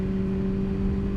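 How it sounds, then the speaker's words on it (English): A loud passing car engine roars with a steady, droning hum, close and continuous for the whole moment, nothing else heard. "that car's so loud"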